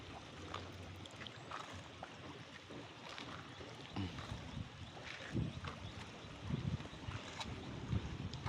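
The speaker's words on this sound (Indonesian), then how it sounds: "akan tertutup dengan suara-suara angin ataupun gemercik air ya teman" Wind blowing steadily across an open bridge, with a broad rushing wash and soft splashing water below, rising in a few louder gusts toward the end; no voices.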